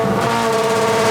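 A Subaru Gymkhana wagon with an 860-horsepower 2.3-litre turbocharged flat-four engine revs hard at a loud, close, sustained pitch during a launch off the line, with no voices over it.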